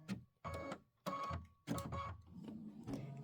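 A sewing machine stitches a quilt block in three short whirring runs separated by brief pauses, then a softer continuing hum, close and fairly quiet.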